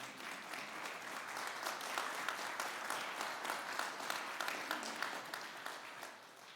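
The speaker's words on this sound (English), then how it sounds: "I think they deserve another round of applause" Audience applause for a musical ensemble at a Holocaust remembrance service, a steady wash of many hands clapping at moderate distance, fairly quiet and sustained throughout.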